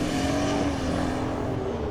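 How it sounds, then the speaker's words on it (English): A drift car running down a cylinder at a D1NZ Drifting Championship round at Manfeild Raceway drones on with a rough, continuous engine note, loud and steady throughout. "The car's down a cylinder."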